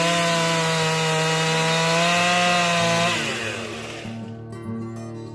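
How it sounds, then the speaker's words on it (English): A chainsaw cuts through an old rotten fallen tree beside a hiking trail, its engine droning at high revs in a steady whine, then dropping and sputtering down toward idle, close and loud. "deal with it with the chainsaw"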